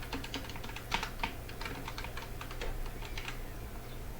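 Someone types on a computer keyboard in a steady run of close, light key clicks with a faint background hum.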